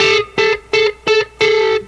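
Electric guitar with distortion playing bent notes that modulate against each other, five loud choppy bursts in a stuttering rhythm, played alone.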